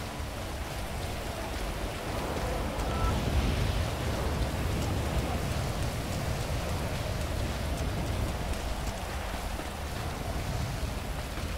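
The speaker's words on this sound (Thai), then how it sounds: "คุณมานั่งกลางฝนเนี่ยนะ" Steady heavy rain pours down continuously, a dense close hiss of drops on surfaces with a low rumble underneath and no voices.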